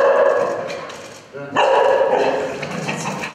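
A customs sniffer dog at Barnaul airport barks several times close by. The barks mix with voices and busy indoor background noise.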